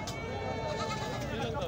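Goat bleating at a busy livestock market, faint and partly buried under steady crowd chatter and people talking close by.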